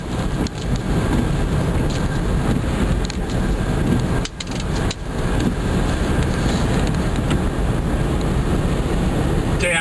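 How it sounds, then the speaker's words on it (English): A car rolling along a rural road through farm country and forest in southwest Michigan, heard from inside as a steady loud broadband road and wind roar, with a brief dip partway through. "I'm driving down the road here in southwest Michigan"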